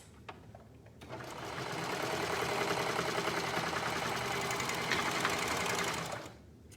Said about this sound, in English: I'm going to sew at the shoulder seams.